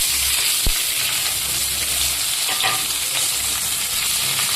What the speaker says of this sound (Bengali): তেল গরম হয়ে গেছে, আমি পেঁয়াজ মানে যত গোটা মশলা আছে সব আমি তেলের মধ্যে ঢেলে